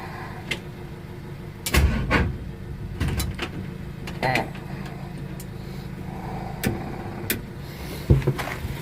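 A 1957 Chevy 210 engine cold-starting: uneven cranking bursts and a rough running rumble, with people talking throughout.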